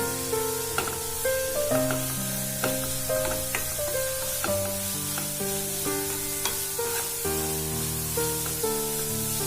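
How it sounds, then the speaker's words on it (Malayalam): Papaya and carrot thoran fries and is stirred in a pan, a soft steady sizzle sitting under louder melodic background music with a plucked, note-by-note pattern. "ഇത് ഇടയ്ക്കൊന്ന് ഇളക്കി കൊടുക്കുക, അല്ലെങ്കിൽ അടിയിൽ പിടിക്കോ."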